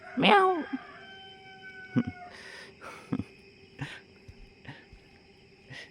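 A rooster crows once near the start, fairly loud, followed by scattered quieter sounds and soft background noise.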